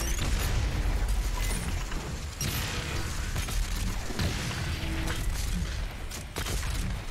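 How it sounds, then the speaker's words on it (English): A big explosion in the shooter game Doom Eternal on the Urdak level, with grenades going off against a group of enemies; loud booming bursts and crashing blasts layered over dense combat noise throughout. "Big explosion."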